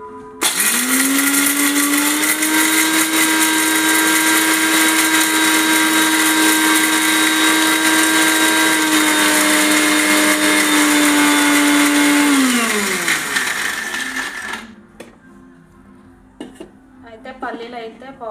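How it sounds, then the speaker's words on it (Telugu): A mixer grinder runs on peanuts and tomato for pachadi, its loud, even motor whine holding for about twelve seconds before winding down, followed by quiet clatter near the end. "ఒకసారి ఇది మిక్సీ అనేది చేద్దాము"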